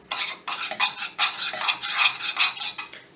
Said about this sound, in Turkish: Çok az bir şey karıştırıyorum